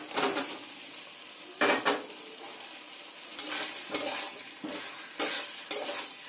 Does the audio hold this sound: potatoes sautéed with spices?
yes